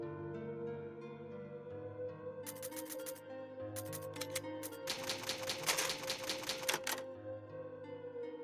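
Rapid bursts of typewriter key clacks ring out from the save-point typewriter in the Resident Evil video game, coming in short clusters and then a longer flurry over quiet background music.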